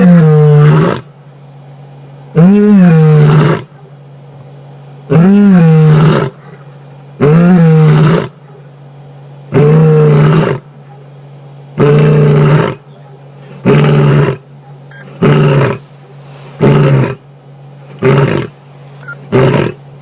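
A lioness roars at sunset in the African bush, a loud, close series of deep, moaning calls that start long and spaced and grow shorter and quicker toward the end, over a steady low engine hum.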